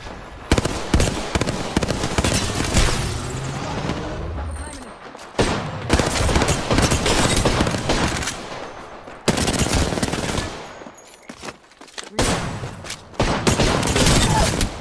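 Heavy automatic gunfire from an Apex Legends Season 7 endgame fight, with dense rapid bursts in several long volleys separated by short gaps, loud and close, with occasional voices mixed in.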